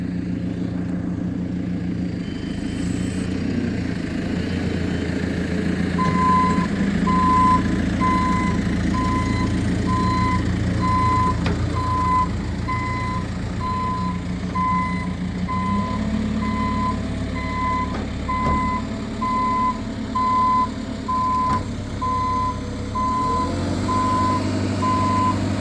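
A crane truck at a basement shoring and lagging construction site reverses to lift shoring beams, its steady beeping alarm repeating at an even pace over a loud, continuous diesel engine rumble.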